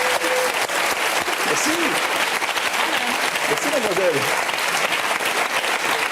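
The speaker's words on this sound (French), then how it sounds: "On l'applaudit." An audience at a hypnosis show claps in a steady, full burst of applause throughout, while someone speaks briefly over it.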